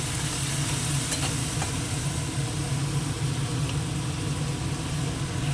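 Spices fry in a pan as cumin powder and a splash of water go in, making a steady, loud, dense sizzle with light stirring scrapes throughout and no talking.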